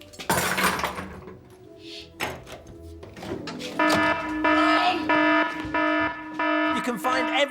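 Building alarm sounding in a film studio prop store, a steady electronic tone that sets in after some knocks and thuds and then holds loud and continuous, with a voice talking over it.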